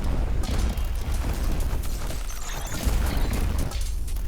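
A huge, sustained explosion in the game R.I.C.E.: a loud, continuous roaring blast with churning low rumble and crackling debris, swelling slightly in the middle and never dropping to quiet.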